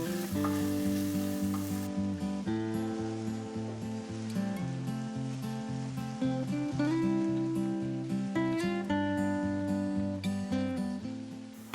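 Red onions, chili pepper, garlic and ginger sauté in chili oil, giving a steady sizzle beneath loud, continuous background music; no one speaks.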